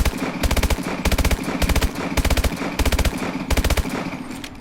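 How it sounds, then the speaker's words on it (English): Automatic AMR9 gun firing in Call of Duty Advanced Warfare, a loud close series of rapid bursts, each a fast rattling string of shots separated by short pauses, repeated about eight times. "So this is a normal AMR9's rate of fire."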